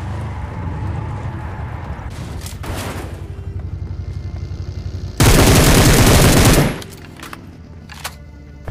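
Gunfire in a battle royale game, a steady rapid run of shots that ends in a loud, sustained burst of fire before dropping back to quieter background.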